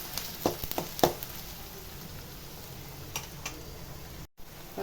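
Finely chopped big onions, about 100 grams, sauté in a pan for paruppu urundai kuzhambu, giving a faint, steady sizzle with a few sharp crackles and pops early on.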